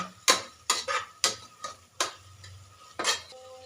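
Ingredients for biryani are slowly fried in a pan. Sharp, irregular clinks and scrapes of a spatula against the metal ring out over a faint sizzle, close by.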